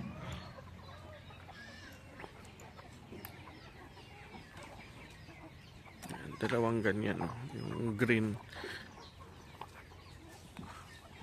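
Chickens cluck faintly in the background at a backyard where farm animals are fed, with a few louder clucks near the end while a person speaks.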